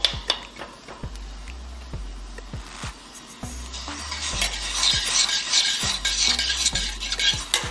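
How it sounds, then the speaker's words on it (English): A spoon stirs brown sugar and ginger through a reducing syrup in a hot pan, giving rhythmic close scrapes and light clinks over a soft sizzle. "I'm gonna give that a good mix and allow it to reduce by half to a syrupy texture"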